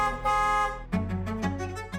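Car horns honk on a busy Indian road: one long steady blast, then a string of shorter overlapping toots, loud and close with traffic noise underneath.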